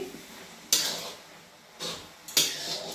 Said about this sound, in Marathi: पण हे झाकण काढून घेऊ